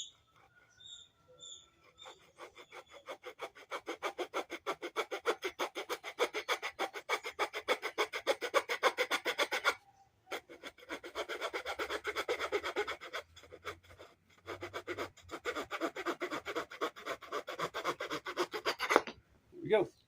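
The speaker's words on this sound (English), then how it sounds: "Swiss Army knife saw, and I'm going to go ahead and trim this one off" A Swiss Army knife saw trims a piece of wood in rapid back-and-forth strokes, with close, rhythmic rasping that pauses briefly around the midpoint and then resumes until near the end.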